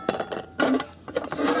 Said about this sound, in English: small frying pan